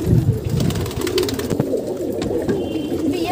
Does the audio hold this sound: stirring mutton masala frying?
no